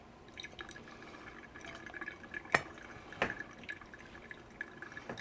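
Water dripping through a pour-over coffee brew of Burundi Masha beans, faint irregular drips and trickles over a quiet background, with two brighter splashy drops standing out.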